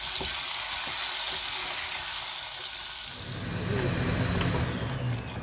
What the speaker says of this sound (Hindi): ये आप देखें हमारे मसाले भून रहे हैं, ऑयल अभी छोड़ रहा है ये मसाला।